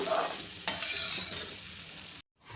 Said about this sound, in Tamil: நல்லா வதக்கிக்கலாம் நல்லா ரோஸ்டாகி வரட்டும் அந்த எண்ணெயில்